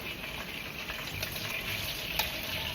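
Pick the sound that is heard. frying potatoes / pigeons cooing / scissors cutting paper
frying potatoes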